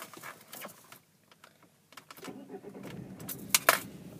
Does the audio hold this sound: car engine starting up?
yes